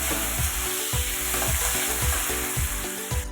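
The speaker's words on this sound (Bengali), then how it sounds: "আলুটা একটু ভাজি।" Potatoes fry in hot oil with a loud, close, continuous sizzle, punctuated by regular stirring scrapes roughly every half second.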